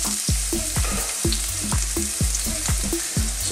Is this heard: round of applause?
no